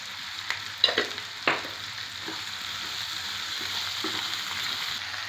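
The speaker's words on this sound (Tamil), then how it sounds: "கத்திரிக்காய் 4 கத்திரிக்காய், 2 உருளைக்கிழங்கு, கேரட்டு இதெல்லாம் சேர்த்து இது முதல்ல நல்லா எண்ணெயிலே கொஞ்சம் வதங்கட்டும்" Brinjal, potato and carrot sauté in oil in a pan, giving a steady close sizzle with a few sharp stirring knocks near the start, then settling into continuous frying.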